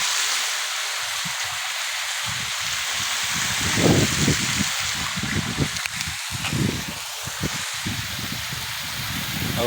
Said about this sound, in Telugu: అక్కడ పైపు వాటర్ లీక్ అవుతుంది